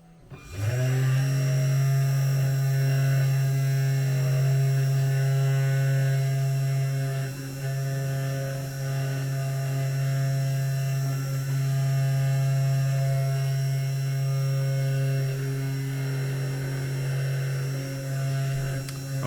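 A CNC 3018 Pro machine runs a test, giving a steady, loud electrical motor hum with a strong low drone and bright overtones that holds almost unchanged throughout.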